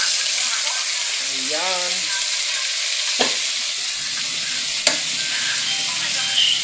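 String beans (sitaw) tossed into a hot pan for ginisang sitaw, giving a steady loud sizzle with a couple of sharp utensil knocks and a brief spoken word over the frying.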